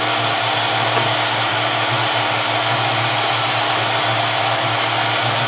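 Miller 105 fabric welder sealer blowing hot air through a narrow nozzle, a loud steady whooshing roar like a hair dryer that runs unbroken throughout with a faint mechanical hum beneath.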